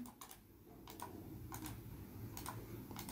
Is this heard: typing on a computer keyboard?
yes